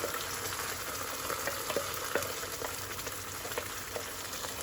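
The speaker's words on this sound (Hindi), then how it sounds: "टमाटर और प्याज की पेस्ट ऐड कर देंगे" Tomato and onion paste sizzles steadily in a pan while paneer tikka masala is cooked, a dense, continuous frying hiss with small pops and occasional stirring, close and even throughout.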